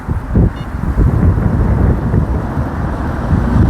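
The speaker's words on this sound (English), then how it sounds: "I think that was just a gust of wind." A gust of wind buffets the microphone beside a pike fishing swim near a bridge, a loud, steady low rumble with no pauses and no clear peaks.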